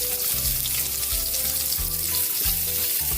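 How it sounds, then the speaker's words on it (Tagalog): Onions sizzle loudly in hot oil in a pan, cooked for ginisang munggo, with a dense continuous crackle and a low repeating hum or scrape pulsing roughly every half second, close and steady throughout. "lagyan na rin natin yung ating onion,"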